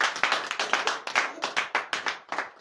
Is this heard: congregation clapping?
yes